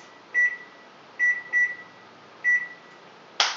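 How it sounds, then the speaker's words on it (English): An oven timer is set for 15 minutes while potatoes roast at 450 degrees. Four short, clear, mid-pitched beeps come at uneven intervals over a steady appliance hum, with a click at the end. "I'm going to set the timer for 15 minutes."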